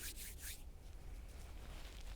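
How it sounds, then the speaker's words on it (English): Hands rub briskly together for warmth, giving a few short, close swishing strokes in quick succession at the start before fading into quiet room tone. "I like to rub my hands together, create a bit of warmth from the friction."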